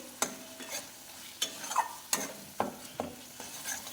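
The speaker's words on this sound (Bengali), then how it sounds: "এবার আমি বাটার দিচ্ছি। বাটারটা দিয়ে একটু নেড়ে নিয়ে" Paneer masala cooking with butter, stirred in a pan: a soft sizzle under sharp, spaced scrapes and knocks of a spoon against the pan, roughly one every half second, close and with no voices.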